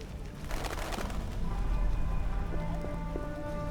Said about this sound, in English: Some serious rain. What a downpour!